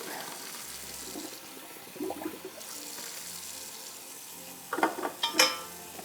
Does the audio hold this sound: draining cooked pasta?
yes